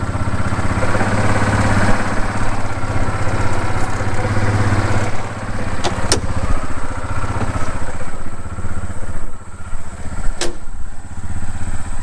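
A Yamaha Rhino 450 UTV engine drives steadily after a belt replacement, a loud, close, continuous mid-pitched engine drone with light clatter and a couple of brief clicks, no talk.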